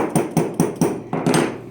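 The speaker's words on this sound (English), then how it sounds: "You can hammer it all the way down." Hammer striking braided flat rope for a dog leash, six sharp taps in a steady rhythm with a short pause before the last two, close and fairly loud.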